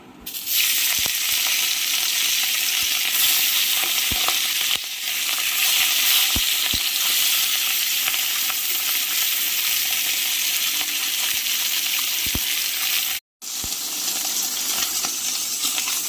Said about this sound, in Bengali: একটু তেল দিয়ে আগে মাছ দুটো ভেজে নেবো